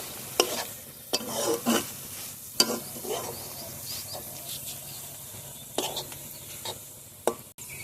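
A spatula stirs cabbage stir-fry with chopped coriander leaves in a pan, making bursts of scraping and tossing over a low, steady sizzle, with quiet pauses between strokes.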